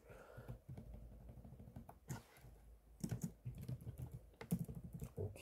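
Keys clatter on a computer keyboard in irregular bursts of quick taps, close by, with brief pauses between runs.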